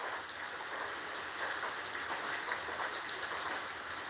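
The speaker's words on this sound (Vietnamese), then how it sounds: "Mưa từ mấy chục phút trước và trận mưa vô cùng lớn." Heavy rain pours down in a historic downpour that floods the yard around a house, a dense, steady hiss of drops hitting surfaces throughout with no pauses or voices.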